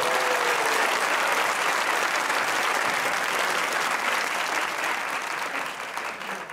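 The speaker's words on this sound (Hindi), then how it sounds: "तो बजाइए तालियां।" A studio audience at a comedy talk show breaks into sustained, dense applause with a bit of crowd noise, steady and fairly near before tapering slightly at the end.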